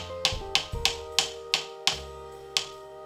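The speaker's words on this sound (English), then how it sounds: "So let's knock it a little bit" A metal lathe tool holder struck about seven times to adjust its height, giving sharp ringing taps at an uneven pace, close and clear, each with a short metallic ring.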